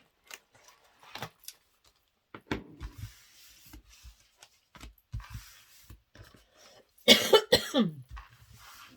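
Scattered rough coughs and throat noises from swallowed dust come in short bursts, ending in a louder, harsher coughing fit near the close.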